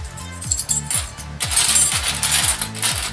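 Metallic clinking and jingling of large and medium-sized coins, metal-detecting finds, being shuffled and handled up close, with a steady mechanical whirring underneath.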